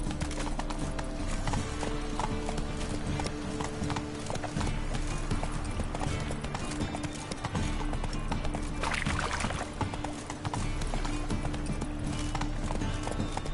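A horse gallops steadily in The Witcher 3, hoofbeats drumming in a fast, continuous rhythm close up, layered over game ambience and music with no talk.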